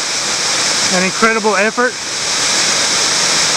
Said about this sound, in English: Just a short distance through here and we'll be at Bandy Creek Falls.